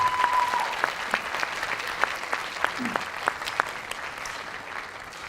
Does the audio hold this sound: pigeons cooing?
no